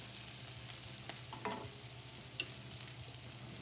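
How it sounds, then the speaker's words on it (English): Bacon frying in a pan: soft steady sizzle with occasional stirring scrapes and light clicks, fairly quiet and close, no voices. "Once that fat's rendered and the bacon looks like it's getting crispy"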